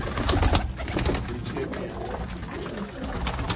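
Several black-faced pigeons coo softly and repeatedly in a low, throaty rhythm, close by, with faint background murmur.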